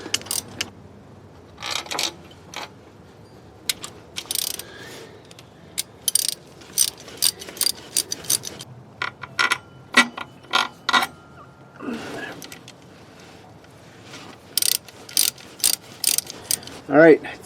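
Ratchet tightening a bolt while a water pump is fitted on a 2000 Dodge Dakota, with rapid bursts of clicking pawl strokes separated by short pauses and occasional tool clatter, close and clear.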